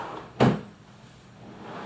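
A drawer in a home scrapbooking craft room slides open once, a short close knock-and-rumble burst followed by quiet room tone.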